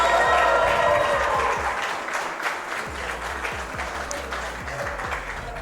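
An audience at a college esports LAN championship applauds two teams, loud sustained clapping and cheering that eases to steadier applause, with voices mixed in.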